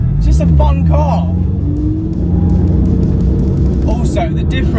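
Tuned Mini Cooper R53 track car with about 330 brake horsepower and water-methanol injection, its engine rumbling loud and close with revving sweeps and sharp crackles, someone talking over it.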